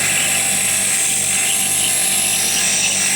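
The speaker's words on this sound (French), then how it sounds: "on est en train d'aiguiser, en fait, les petits verres" A grinder sharpens small pieces of glass for Tiffany-style stained glass work in a glass workshop, a loud continuous whirring grind with no pauses and no talk.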